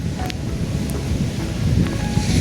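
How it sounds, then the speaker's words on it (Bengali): Heavy rain falls by the sea in a steady, dense wash, with gusty wind buffeting the microphone throughout and no one speaking. "আর অনেক বৃষ্টি পড়তেছে গাইস"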